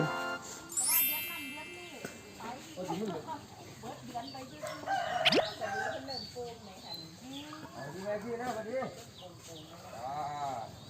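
Chickens crow on a farm, with a rooster's loud, rising cock-a-doodle-doo near the start and further calls mixed with other livestock sounds, while people talk throughout.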